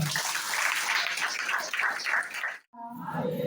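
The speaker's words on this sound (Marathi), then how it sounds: "जोराने टाळ्या वाजवा." Church congregation clapping loudly together at a prayer centre, a dense steady wash of applause that stops abruptly near the end before a voice begins speaking.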